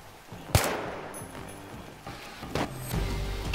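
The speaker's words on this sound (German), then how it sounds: "Ich hab gerade eben noch einen Schuss gehört" A few sharp gunshot cracks in a Battlefield 3 two-versus-two match on the Bazaar map, spaced irregularly over a few seconds against a low background rumble of game ambience.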